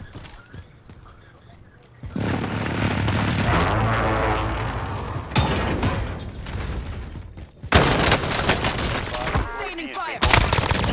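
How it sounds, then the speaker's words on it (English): Precision airstrike explosions in a Call of Duty battle royale match on Rebirth Island, loud bursts and rumbling blasts that come in waves, with crackling gunfire and game chatter around them. "Enemy precision airstrike, take cover."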